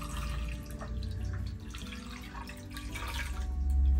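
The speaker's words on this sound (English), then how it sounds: "So we're going to go ahead and pour our water in there." Hot water pours into a container for melting candles, a steady splashing, trickling flow that swells louder toward the end, with no voices.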